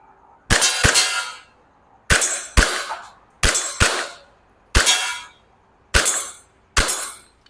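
Seven sharp gas-blowback shots from a WE Glock 34 Gen3 airsoft pistol fired at targets about ten metres away, spaced singly and in quick pairs, each a crisp loud crack with a metallic slide clack and short ring.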